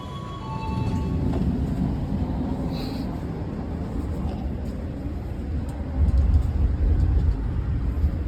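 KA Lodaya New Generation economy train pulling away from Kutoarjo, a steady low rumble of the moving carriages that swells slightly near the end, heard from inside with no talk.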